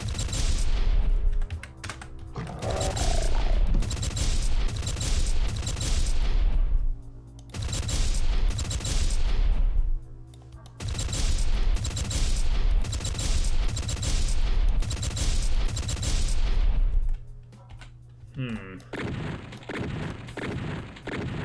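Weapon firing in Doom, long runs of rapid repeated shots in a steady mechanical rhythm, loud and close, broken by short pauses between bursts.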